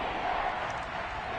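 A home stadium crowd at a football video game roars in a broad, steady wash of noise for a brief moment, loud and continuous with no distinct voices standing out.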